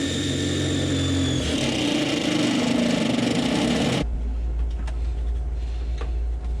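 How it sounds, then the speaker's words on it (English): A steady, loud mechanical whir runs for about four seconds, then cuts to a lower hum with faint rattles, like a power drill boring a hole through the metal floor of a Chevy LUV truck. "I'm gonna go ahead and drill a hole"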